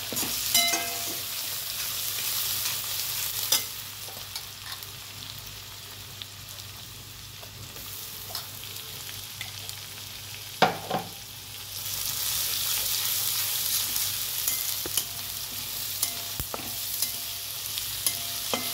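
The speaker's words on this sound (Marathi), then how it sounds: "लसूण अद्रक पेस्ट, सगळे मसाले मी घालायला लागले याच्यात" Ginger-garlic paste and spices fry in a pan for Marathi vangi bhat, an eggplant rice dish. A steady close sizzle runs throughout, with occasional stirring knocks and scrapes and no voices.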